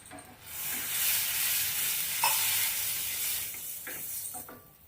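Onion and masala paste for a paneer curry hiss and sizzle in a hot pan just after a few spoonfuls of water go in, a bright sustained sizzle that rises and eases with a few stirring scrapes.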